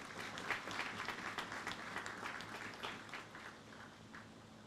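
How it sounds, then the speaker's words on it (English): Audience applause at a formal event on prisoner reintegration, steady sustained clapping from a moderate crowd, distant and faint, fading slightly toward the end. "let us give them a wonderful applause again"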